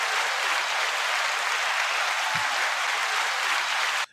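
A burst of hand clapping fills the clip, a dense, loud, steady wash of many claps that holds evenly for about four seconds and then cuts off abruptly.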